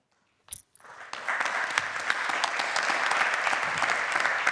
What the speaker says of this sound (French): Applaudissements dans la salle.